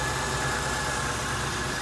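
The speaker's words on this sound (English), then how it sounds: "the Oldsmobile's been running here for a while" A 1988 Oldsmobile Cutlass Ciera engine idles steadily after a cold start, a continuous, fairly loud mid-pitched rumble with a faint knock-like tick running underneath, heard alone without talk.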